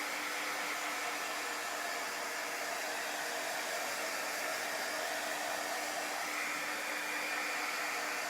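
A hair dryer blows steadily on a chalk-painted craft piece, a loud, close, unbroken whooshing hum with a faint whine, with no talking over it.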